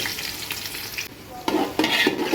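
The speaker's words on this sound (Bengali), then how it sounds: "এখন আমি আবার এই তেলে পেঁয়াজ কুচি দিয়ে দিচ্ছি।" Chopped onion sizzling in hot oil over low heat, with a steady frying hiss that swells into bursts of stirring and scraping toward the end.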